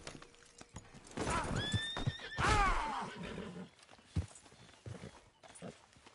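A single horse in Red Dead Redemption 2 gives a loud, rising whinny near the middle, framed by scattered hoof thuds and shuffling steps in an otherwise quiet scene.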